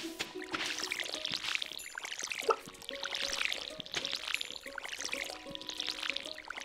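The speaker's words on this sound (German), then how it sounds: "Ach Gott, dieses ewige Gießen." Repeated sloshing pours from a watering can in the farming game Stardew Valley, each splashy burst lasting a second or two and recurring in a steady cycle over soft game music.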